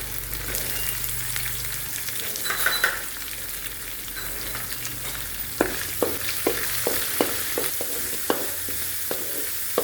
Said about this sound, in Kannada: ಈಗ ಉಳ್ಳಾಗಡ್ಡಿ ಹಾಕೊಳ್ಳಾಕತ್ತೀನಿ.